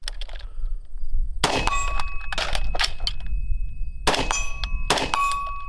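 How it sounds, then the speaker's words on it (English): Loud metallic clangs in two pairs from a PSA 16-inch Sabre rifle, each strike leaving a sustained high ringing tone like vibrating metal prongs. "do something to reduce that absolutely horrible tuning fork noise"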